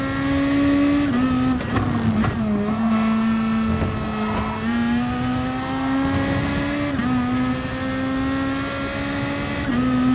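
In a racing video game on the Kyoto track, a race car's engine drones loud and close, holding a steady high whine with small pitch dips and climbs at gear changes, and no one speaks over it.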